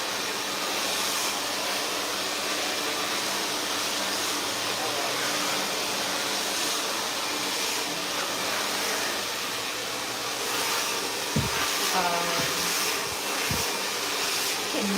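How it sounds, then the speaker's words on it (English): A hair dryer blows steadily and loudly close by, its broad whooshing roar unbroken for the whole stretch, with a few faint knocks near the end. "Can you hear me over the dryer?"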